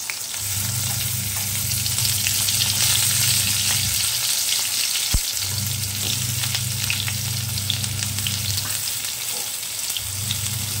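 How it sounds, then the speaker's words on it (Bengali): Vegetables for shukto, including potato, papaya, carrot, radish and drumstick, frying in a pan, a loud continuous sizzle with rhythmic scraping as they are stirred, plus one sharp knock midway. "এরপর এটাকে একটু নাড়াচাড়া করে নেবো, একটু ভাজা ভাজা করে নিয়ে"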